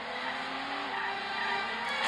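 A tank in the game From Russia with Love rumbles forward with a dense, steady engine drone, close and fairly loud, swelling slightly toward the end.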